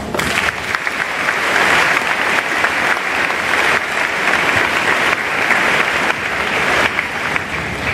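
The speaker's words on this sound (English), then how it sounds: "Please join with us in giving them a huge round of applause." A large graduation audience at a high school ceremony applauds loudly and steadily, a dense wash of many hands clapping at once with no speech over it.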